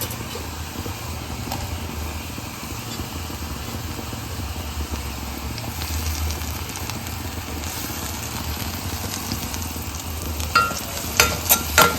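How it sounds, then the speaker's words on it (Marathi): Chopped tomatoes frying in a pan for a dried-fish curry give off a steady, even sizzle for the whole stretch, with a few sharp utensil clinks close by near the end. "आता आपण याच्यामध्ये टोमॅटो घालू."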